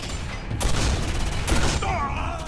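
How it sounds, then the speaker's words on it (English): A shotgun fires in the sci-fi shooter Quake 4, with two sharp, loud blasts about a second apart over a dense background of game noise and combat clatter, no speech. "shotgun's the way to go here"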